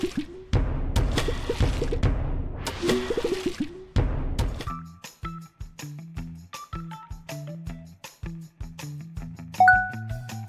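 The Water Wubbox monster from My Singing Monsters sings in a rhythmic string of watery, drippy plops and squishy tones, with deep bubbling pulses at first, then sparser bell-like drops.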